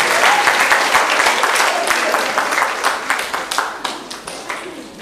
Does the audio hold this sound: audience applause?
yes